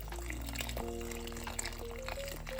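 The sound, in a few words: pouring warm egg-lemon mixture into soup while stirring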